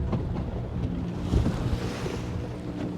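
Sea waves and wind wash around a small fishing boat out in rough deep water, a constant rushing surge with heavy wind buffeting on the microphone and no talking.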